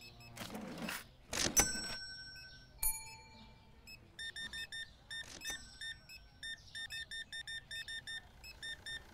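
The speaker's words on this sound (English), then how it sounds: "Just love the speed up beeps." Rapid rows of bright electronic beeps play in a steady repeating rhythm in the Supermarket Simulator video game, following a few clunks and swishes, fairly faint with no talking.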